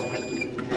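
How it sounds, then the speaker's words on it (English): A solar-powered, hand-sensing water barrel gives a short electronic alarm beep, a thin steady tone sounding close over a continuous background hum, with no talking. "It also have the alarm system to prompt you"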